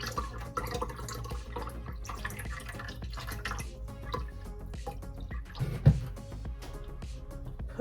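Water draining from the drain tube of a NewAir countertop nugget ice maker, trickling and dripping irregularly into a pitcher at close range, with one louder splash near the end.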